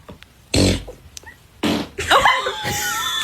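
Fart sounds in a comedy show's guess-my-fart game, a short low blast followed by a longer, louder raspy burst, likely mixed with a voice imitating a fart and laughing, close and loud.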